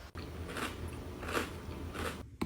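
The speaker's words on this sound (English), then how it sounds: "Listen to the crunch." Close crunching bites into a crunchy chocolate Ahmed Al Zamel Lazy Cat Cake, about three distinct crackly bursts in a loose rhythm, with no talking.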